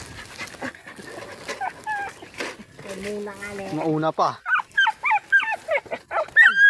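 A pet dog whimpers and lets out short yips and barks, close and fairly loud, in a burst of repeated cries toward the end while people talk over it.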